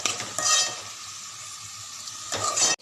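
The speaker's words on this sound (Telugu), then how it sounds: "చూడండి, ఉల్లిపాయ ముక్కలన్నీ ఇలా ఎర్రగా వేగించుకోవాలండి." Onion pieces fry in a pan for biryani, giving a close, steady sizzle with brief scraping stirs at the start and end.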